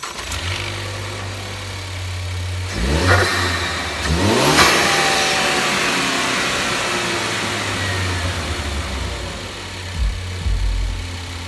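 A turbocharged Ford ST engine with a homemade turbo intake idles loudly up close, then revs sharply twice, the pitch sweeping up and falling back, with a steady rumble between.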